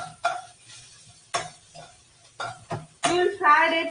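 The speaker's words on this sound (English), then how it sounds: "We will fry it till it becomes translucent." Onions fry in a pan, with soft sizzling broken by several sharp stirring scrapes and clinks of a utensil, close and fairly quiet, ending in a louder sizzle.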